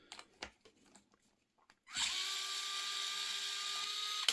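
Power tool fitted with a 5-inch box socket spinning up to undo wheel nuts on an RC crawler, a few faint handling taps before a loud, steady high-pitched whine that runs for over two seconds and then cuts off.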